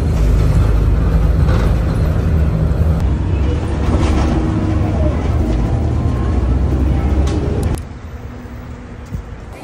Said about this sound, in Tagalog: Yan ang aking bus.